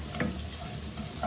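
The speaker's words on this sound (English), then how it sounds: "straight away I'm going to add both my onions and my fennel" Onions and fennel frying in a pan for a Mediterranean fish stew, a brief steady sizzle up close with a faint stir.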